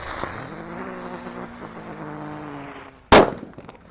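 A green Terrator firecracker goes off during Eid eve night celebrations. First comes a low droning hum with a faint whistle, then a single sharp, loud bang near the end, followed by a fading rumble.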